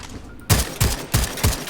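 Carbine gunfire in the video game Second Extinction: four loud, close shots in a steady rhythm about a third of a second apart, after a brief quiet start.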